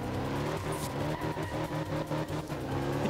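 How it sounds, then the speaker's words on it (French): A rally car in the Art of Rally video game driving hard on gravel, engine revving continuously with tire scrabble and skidding, and faint crackles and pops over the steady motor roar. "ces retours de flammes, ces gravillons qui se soulèvent, ces disques de frein qui crépitent des étincelles"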